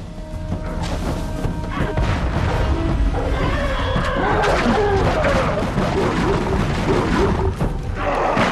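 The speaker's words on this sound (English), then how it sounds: "Grenades are here too." Grenade explosions and gunfire sound in a Wild West shooter video game as a dense run of crashes, thuds and booms lasting several seconds, with a voice talking over the action.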